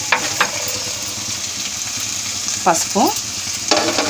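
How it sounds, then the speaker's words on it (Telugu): Ginger garlic paste sizzles steadily in a hot pan for an egg curry, with a few sharp scraping stirs of the spoon breaking through the constant frying hiss; a voice briefly speaks. "అల్లం వెల్లుల్లి పేస్ట్ వేసి వేయించుకోవాలి"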